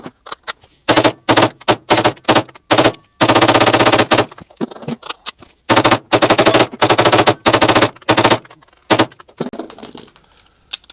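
A PSA Jakl rifle chambered in .300 BLK fires rapid strings of shots at an outdoor range, loud bursts broken by short pauses, ending with a few scattered rounds and quieter handling noise.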